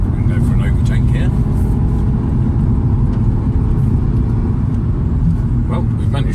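Car overtaking on a test track at Millbrook proving ground, heard from inside the cabin as a steady low engine and road rumble that holds throughout, with a voice talking over it.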